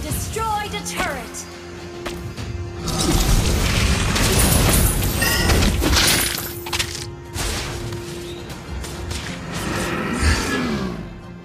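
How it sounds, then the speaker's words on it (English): A turret blown up in a video game, a heavy booming crash with shattering debris that swells and rolls on for several seconds amid other game effects, with an announcer-style voice speaking over parts of it. "Your team destroyed a turret."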